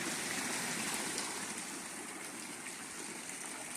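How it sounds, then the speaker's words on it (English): Water flows through the channels of a 14th-century Alhambra garden fountain, a soft, steady babbling rush heard faintly and alone without any voices. "Those aren't random water sounds."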